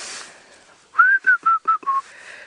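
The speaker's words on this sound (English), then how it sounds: "You don't mind me while I try and make my whistle." A homemade whistle is blown in five short, clear tones in quick succession, each slightly lower than the last, close and alone after a brief quiet lead-in.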